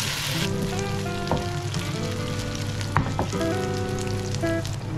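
Chopped sisig meat fries in butter in a pan with a dense, steady sizzle, broken by a few sharp clanks and scrapes of a utensil stirring it close up.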